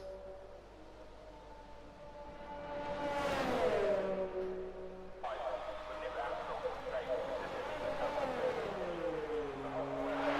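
A Toro Rosso Formula 1 car on a qualifying lap at Belgium, its engine note rising to a shrill peak as it passes close by, then holding a high revving whine as it shifts down and fades, with commentators talking over it.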